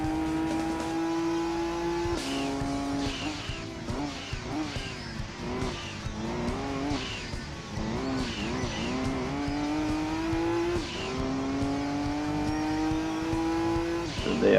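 Touring race cars in Gran Turismo 2, including a Vauxhall Vectra and a Honda Accord, roar with steady engine whine, the pitch climbing through gear changes and dropping between shifts, loud and continuous throughout.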